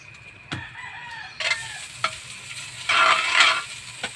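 Seashells sautéing in butter with ginger, a steady close sizzle broken by sharp stirring clinks and scrapes, with a louder burst of frying in the middle.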